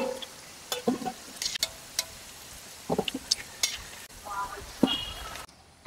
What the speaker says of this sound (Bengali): আলুগুলো দেখুন ভাজা হয়ে গেছে